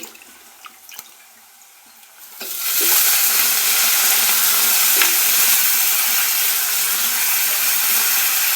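Washed chicken pieces for a chicken curry drop into a hot pan after a quiet moment, and a loud, steady frying hiss follows and holds without letup.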